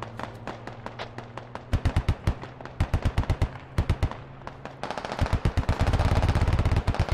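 Gunfire rattles in the military shooter game Squad: repeated short automatic bursts of sharp, close cracks in an uneven rhythm, building into a dense, continuous volley near the end.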